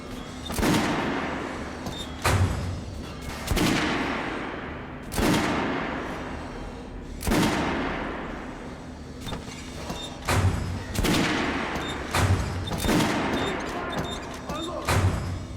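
Repeated sharp rifle volleys in the Metro Last Light game, about eight distinct loud cracks spaced a second or two apart, each with a short decaying tail, mixed with faint shouted commands.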